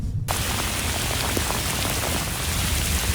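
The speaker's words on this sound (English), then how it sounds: "this rain that we've seen this evening" Steady evening rain falls across a flood-hit suburban neighborhood as more storms move in, a dense, even hiss with scattered drop patter, close and continuous without any voices.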